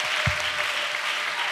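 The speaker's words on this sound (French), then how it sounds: "Acclamation à Jésus-Christ. Avec des cris de victoire" Applause fills a gathering acclaiming Jesus Christ during a missionary retreat, a short, steady burst of clapping from a crowd with a single low thump early on.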